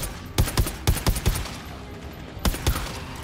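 Bursts of rapid gunfire from the player's weapon in the video game GTFO, two close, loud volleys of sharp shots separated by a brief pause.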